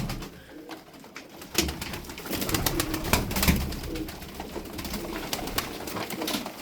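Turkish fancy tumbler pigeons from Tokat cooing nearby, soft throaty calls mixed with fluttering and rustling, a fairly busy, close sound with no talking.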